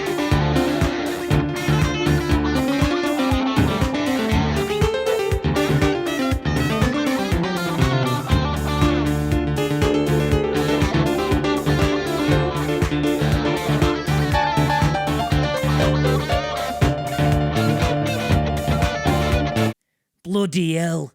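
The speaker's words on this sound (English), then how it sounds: "the sound is bad and his guitar's out of tune" Out-of-tune electric guitar played live at the Ernie Ball NAMM booth through a poor sound system, a loud, dense, continuous band-like wash that cuts off abruptly near the end.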